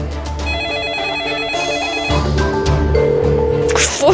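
A telephone rings on and on without being picked up, its repeated electronic tone sounding loud and close over a mechanical hum and some background clatter.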